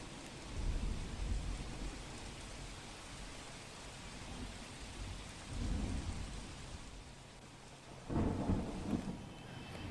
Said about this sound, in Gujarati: ફરી ધોધમાર વરસાદથી પાલિકાની કામગીરીની પોલ ખુલી ગઈ છે